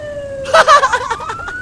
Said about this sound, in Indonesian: Ada ambulan datang dong.